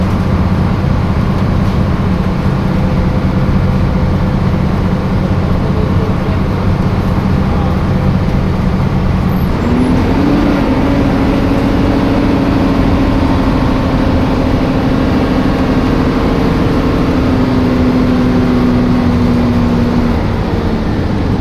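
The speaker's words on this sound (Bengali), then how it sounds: "উপভোগ করুন এই বাসের হিনোকে 1J ইঞ্জিন সাউন্ড" An old, roughly 20-year-old Hino AK1J diesel bus engine drones loudly and steadily while driving, its distorted low rumble constant throughout, with a rising tonal whine as it revs partway through.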